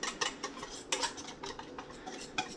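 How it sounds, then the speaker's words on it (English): Salad dressing whisked in a bowl, a quick run of light metallic clicks and scrapes at an uneven, brisk rhythm, close but soft, with nobody speaking. "gonna whisk up the dressing."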